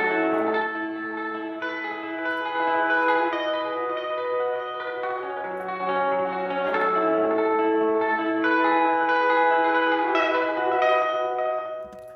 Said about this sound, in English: This is just Logic's native tape delay, but I put that there and then I put a couple dBs of reverb.